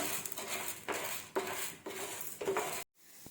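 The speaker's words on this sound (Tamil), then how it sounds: "நம்ம உளுந்து நல்லா கோல்டன் ப்ரௌனாக வறுத்து எடுத்துக்கலாம்." Urad dal fries in hot oil on low flame, a soft steady sizzle broken by several brief scrapes of a spoon, fairly faint and close, then cutting off abruptly near the end.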